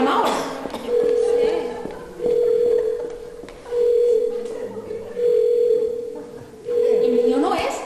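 A mobile phone ringtone in a Spanish stage play sounds in repeated steady tonal bursts with short gaps, over noisy background and overlapping voices.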